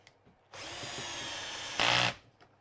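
A power drill drives a 1.25 inch coarse screw into wood, a near, steady whirring burst of about a second and a half that rises into a louder, harsher grind as the screw seats, then stops.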